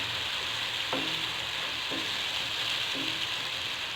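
Tomatoes fry in a pan for an aloo anda potato-and-egg curry, giving a steady close sizzle. Three soft stirring scrapes fall at roughly one-second intervals.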